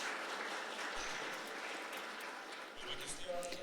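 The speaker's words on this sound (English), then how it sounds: "That's why I want everyone to applaud them." Conference audience applauding: steady, moderately loud clapping from a crowd in a hall throughout, with a faint voice near the end.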